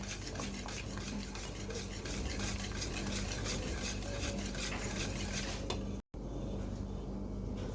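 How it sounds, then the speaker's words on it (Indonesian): Pumpkin layer pudding batter is whisked in a bowl, giving a dense, continuous rapid scraping and swishing rhythm, close and steady, that stops briefly near the end before resuming more quietly. "kita kocok."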